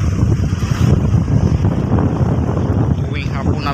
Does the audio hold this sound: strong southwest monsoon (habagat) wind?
yes